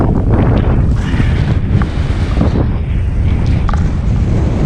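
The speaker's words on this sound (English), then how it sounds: "The wind's blowing 100 miles an hour." Strong wind roaring steadily across an open-air microphone during a solo duck hunt with a small decoy spread, a loud continuous rumbling buffet filling the whole stretch with no talk.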